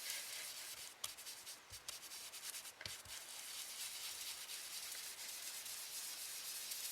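Steady dry rubbing of colour being blended across a paper Halloween card, a soft continuous scratchy friction with a few brief louder strokes early on, close and quiet with no talk.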